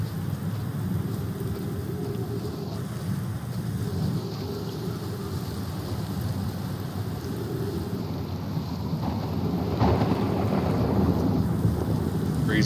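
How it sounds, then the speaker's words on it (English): Storm in the Outer Wilds video game: a steady roar of wind and rain with low rumbling thunder, building slightly louder toward the end, with no voices. "Crazy storms going on."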